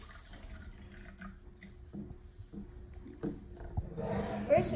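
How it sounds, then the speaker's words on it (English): Water poured into a test cup for a pH and TDS check of Hawaiian volcanic spring water, faint trickling and drips that swell into a louder splashing pour near the end. "Let's pour some water in."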